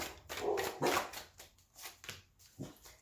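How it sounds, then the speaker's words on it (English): Several dogs bark in loud, agitated bursts at close range, two strong volleys early followed by scattered sharper barks, in a home setting during a tarot card reading. "My dogs were going crazy."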